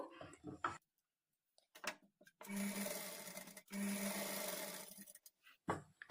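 A sewing machine stitching the fall along a saree edge runs in two long, steady bursts separated by a short pause, loud and close, with brief handling noises before and after.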